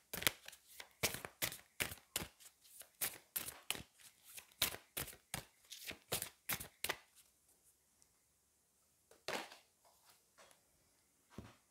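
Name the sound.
shuffling oracle and angel cards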